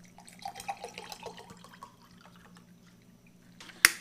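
Water pours into an MRE drink pouch, with small splashes and drips trickling at first and fading, then a sharp plastic crinkle near the end.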